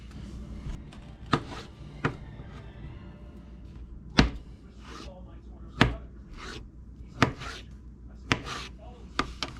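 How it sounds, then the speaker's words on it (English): A knife chops through food on a board for mini tacos in a home kitchen, with about eight sharp, separate thuds at an uneven pace, close and clear against a quiet background. "now I just need to chop it up"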